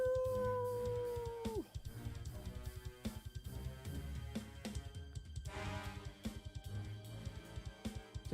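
A creature howls during a tabletop Pokémon adventure game: one long, loud falling howl fades out after about a second and a half, followed by dense rhythmic thumping music and sound effects, with no talking.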